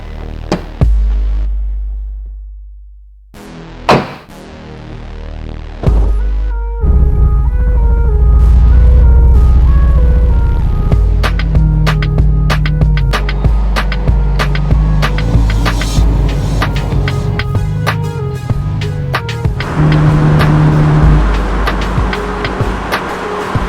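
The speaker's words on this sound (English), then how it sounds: "I'm going to take you guys for a run in my daily driver R34 GTR V-Spec" A Nissan Skyline R34 GTR V-Spec starts up and drives off, the engine idling, then revving through gears with deep throbbing rises and shifts, heard loud and close from inside or beside the car.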